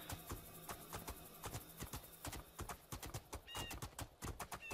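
Rhythmic clip-clop of horse hooves at a steady gait in the video game Two Worlds II, close and clear, with a brief whinny near the end and no talking.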